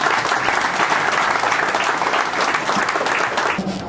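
A school audience applauds at a ceremony for secondary schools in Huitzuco, Guerrero, with loud, sustained clapping filling the hall for several seconds before easing slightly at the end.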